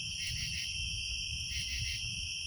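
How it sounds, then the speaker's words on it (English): Crickets chirp at night in a continuous, shimmering chorus with gently pulsing trills, moderately close, over a low background rumble at a campsite. "And I love sitting out here, just hearing the crickets."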